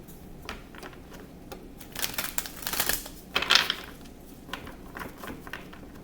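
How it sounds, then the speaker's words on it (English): Soft, papery riffling of tarot cards being shuffled in short bursts, with a louder flurry midway, close and quiet, no voices. "I'm going to shuffle again"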